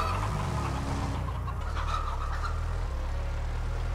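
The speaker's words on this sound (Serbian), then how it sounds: "Još to leti ova kokoška." Chicken clucking near a road while a VW Golf 2 idles, short bird calls over a steady low engine hum, moderately close, no talk.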